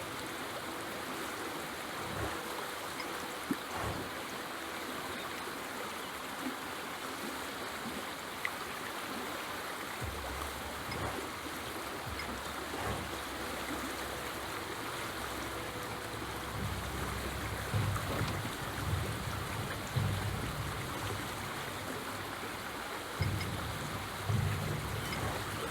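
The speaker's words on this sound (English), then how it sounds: "Acid water washes around the rocks." Steady wash of acid water lapping and flowing around rocks in the adventure game A New Beginning, a continuous close watery rush with a faint low rumble joining partway through.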